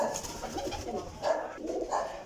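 Flying pigeons coo in several soft, rolling bursts close by, with a faint background hum and no talk.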